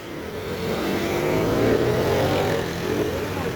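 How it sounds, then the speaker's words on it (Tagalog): Heavy, slow-moving road traffic jam, a dense rumble of car engines with a mid-range drone swelling and easing as vehicles creep along nearby. "Grabing traffic. Sobra."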